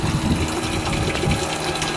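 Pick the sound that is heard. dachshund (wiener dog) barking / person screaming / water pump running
water pump running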